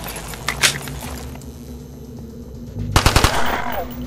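A new gun fires in a Minecraft zombie-map remake: a tight burst of about five sharp, loud shots near the end, following a stretch of quieter game ambience and clatter.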